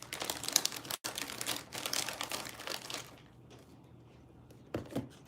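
A snack bag crinkles close by in quick rustling bursts, then goes quiet, with a couple of brief handling noises near the end during a late-night eating session.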